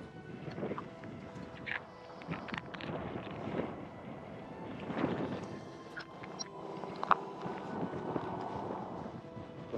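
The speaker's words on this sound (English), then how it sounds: "What's this wind?" A chilly north-northeast wind buffets the microphone on a winter walk with a Finnish Spitz, a low, uneven rumble that rises and falls in gusts with faint scattered sounds over it.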